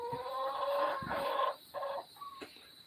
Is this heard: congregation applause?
no